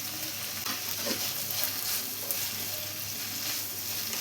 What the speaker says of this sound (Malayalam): ഇതെല്ലാം കൂടെ ഒന്ന് മിക്സ് ചെയ്ത് കൊടുത്തിട്ടുണ്ട്